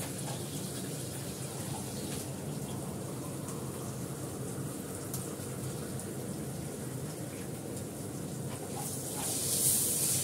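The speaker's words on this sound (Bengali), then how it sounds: "এবার জল দিয়ে দেবো।" Water is poured into a cooking pot holding green chillies and black pepper powder, making a steady, continuous rushing hiss that swells slightly near the end. There is no talking.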